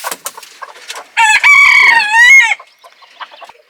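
A broody hen gives a loud, drawn-out squawking call lasting about a second, close by, with soft clucks and rustling before and after.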